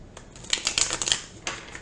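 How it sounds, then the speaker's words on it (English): Tarot cards being shuffled by hand during a Pisces reading, a quick run of crisp papery riffles and slaps building to a flurry, a short pause, then one last burst, close and alone with no talk. "One more shuffle, guys."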